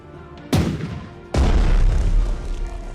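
Two heavy booming blasts of battleship gunfire from the Colorado strike a weakened Japanese carrier in the Pacific naval strategy game Strategic Mind: The Pacific, each a loud sudden boom with a long rumbling tail.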